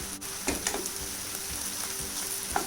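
Steady sizzling of garlic and ginger paste frying in a hot pan, with a few soft clicks and stirring scrapes over the crackle.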